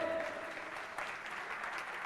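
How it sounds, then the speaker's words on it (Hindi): An audience at the inauguration ceremony of the Shree Agrasen Mandal Bhawan in Nagpur claps continuously, a dense wash of steady applause from a crowd indoors. "सभी से निवेदन है कि तालियों की गड़गड़ाहट से"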